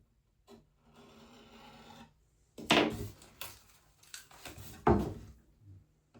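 A scalpel blade cuts tape inside a goalie mask, giving a few close, sharp scraping strokes with short quiet gaps between them.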